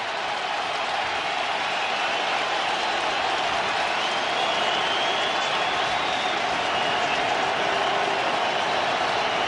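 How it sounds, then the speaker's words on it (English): A crowd in an NFL stadium roars and cheers steadily on third down, a dense continuous wash of noise that holds loud throughout with no gaps. "Oh, here goes the crowd."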